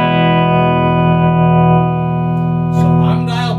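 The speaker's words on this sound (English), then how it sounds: "That's the amp reverb at 9 o'clock." An overdriven electric guitar plays through a Carr Super Bee 1x12 combo amp with its reverb up, a single sustained chord ringing loud and steady with a slight swell before a brief pick scrape near the end.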